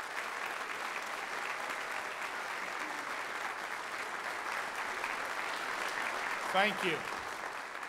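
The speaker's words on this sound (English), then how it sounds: "let's recognize all these students with a round of applause" Sustained audience applause at a university honors convocation recognizing honor students, steady and dense throughout, with a brief spoken word near the end.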